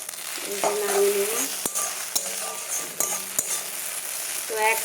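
Maggi noodles with egg being stirred and fried in a pan, a steady close sizzle with repeated spatula scrapes and knocks against the pan throughout, no talking.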